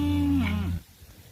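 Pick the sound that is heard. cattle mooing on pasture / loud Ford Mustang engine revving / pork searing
cattle mooing on pasture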